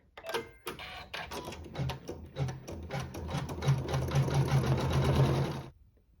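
A sewing machine runs a quilting pass and a satin stitch across fabric, with a few short starts and then a steady, loud, rapid needle chatter that builds and stops abruptly near the end.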